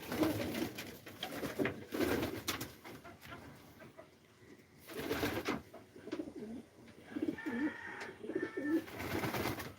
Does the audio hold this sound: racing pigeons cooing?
yes